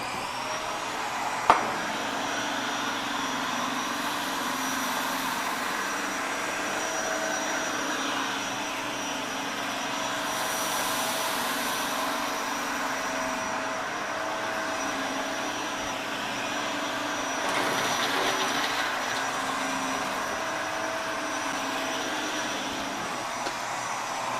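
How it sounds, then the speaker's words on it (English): A Eureka Floor Rover Pet vacuum cleaner makes a single forward pass over carpet, running steadily nearby with a constant motor whine, swelling slightly as it pushes across, with a brief click near the start. "This test is just to see if the vacuum scatters on carpets."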